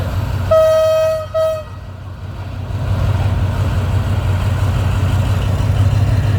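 A Thai passenger train, service 284 running from Chuk Samet to Bangkok, gives a loud double horn toot and then rumbles past close by, a steady low rolling roar of wheels and cars.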